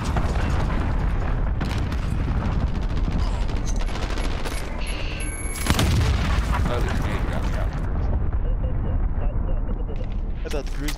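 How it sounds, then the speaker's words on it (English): An enemy cruise missile slams down in Modern Warfare among dense, continuous gunfire and booming blasts, a sharp heavy impact near the middle of a loud, chaotic battle with voices talking over it. "I thought the cruise missile was gonna get me."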